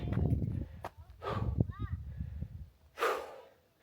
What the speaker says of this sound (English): Still breathing hard.